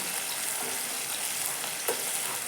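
Tomatoes and chillies fry in a pan with a steady, dense sizzle that holds evenly throughout, close and fairly loud, with one small clunk of stirring near the end.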